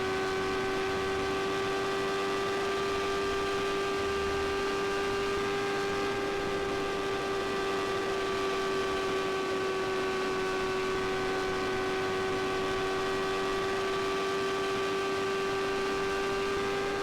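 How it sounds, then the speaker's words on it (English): A train passing in the background gives a steady, distant rumble with sustained droning tones that hold evenly for over fifteen seconds, with no talk. "Oh, there's a train in the background."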